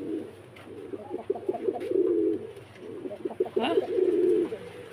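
A Koka pigeon coos in two rolling, throaty bursts at close range, with a faint voice briefly heard.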